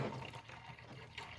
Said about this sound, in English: go ahead and throw in our distilled water